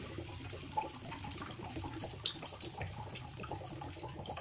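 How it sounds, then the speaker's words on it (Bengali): About 500 ml of water is poured into a pot of chicken stew, giving a steady splashing, gurgling pour that runs continuously with a few small clinks. "এতে আমি 500 ml জল দিয়ে দিলাম।"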